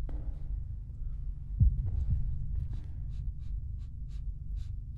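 A heartbeat sound effect in the horror game Deppart prototype throbs low and muffled, a steady pulsing under a tense ambient hum, with a sharp thud partway through and faint clicks later, with no speech.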